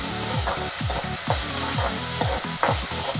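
Tomato sautéing in a pan: a soft steady sizzle with a regular stirring rhythm of spatula scrapes, roughly three strokes per second, close up and without talk.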